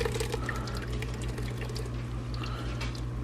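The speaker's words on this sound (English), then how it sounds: "we're gonna run it through the strainer just to make sure we get any like seeds that didn't get chopped up" Blended ranchero sauce poured and pushed through a kitchen strainer, a steady close, wet liquid trickle running continuously without talk.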